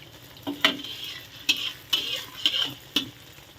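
Egg omelette frying in hot oil, a steady crackling sizzle punctuated by regular metallic scrapes and taps of a spatula about every half second, close and alone.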